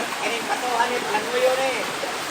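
Floodwater rushing through a flooded area where a bridge was cut off, a continuous loud roaring wash of churning water with gurgling swirls, and faint voices mixed underneath.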